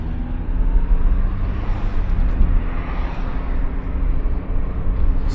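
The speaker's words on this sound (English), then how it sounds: "Not sure if you can hear me from this traffic now." Steady road traffic noise is heard from inside a 1991 VW Golf 2 with a 1.8 90 HP engine and 3-speed automatic, driving at night with the window lowered, a continuous low rumble and wind wash with no talk.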